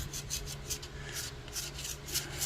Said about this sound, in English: I'm just going to take some 600 grit sandpaper.